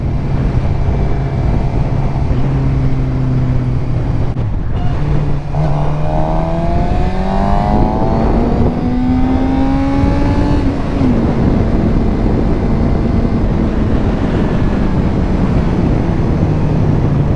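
Sport motorcycle engine on a GSX-R 600, R6 and Ducati group ride, loud and close, with rising pitch as throttle is added, easing off briefly, then climbing again under constant wind rush.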